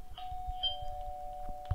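A doorbell chimes with a sustained electronic tone, ringing out steadily over a faint background with a few soft knocks.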